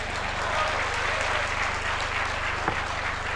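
Sustained audience applause from a crowd at a public talk, a dense, even wash of clapping without any let-up.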